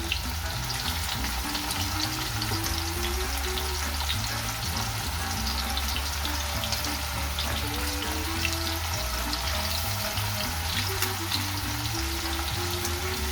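Prawns frying in a pan with wine almost cooked off for a seafood and fish stew, a continuous close sizzle and crackle with a faint low tonal hum beneath, steady throughout with no talking.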